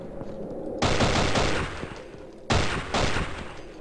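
Pistol fire in the video game Afraid of Monsters comes as two loud, close bursts of rapid gunshots, each lasting under a second and followed by a lingering noisy decay.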